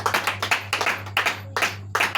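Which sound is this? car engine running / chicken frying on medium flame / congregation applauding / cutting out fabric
congregation applauding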